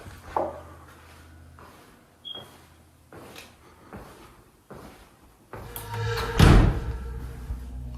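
A door opens unexpectedly and bangs, a series of separate wooden thumps and knocks spread over several seconds, ending in a louder, longer slam and rattle close by, with no talk.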